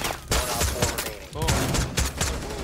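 Rapid bursts of gunfire from a shooter video game crackle in quick clusters under excited talk, close and fairly loud throughout.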